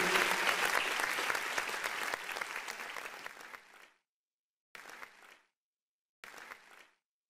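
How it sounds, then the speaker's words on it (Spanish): A church congregation at a worship service claps together, a dense burst of applause that fades out and is followed by two shorter rounds of clapping. "Dele palmas al Señor."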